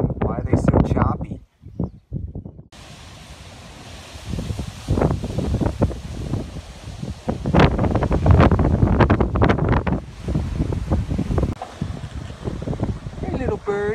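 Gusty outdoor wind buffets the microphone in loud, uneven rushes over about fourteen seconds, with someone talking intermittently.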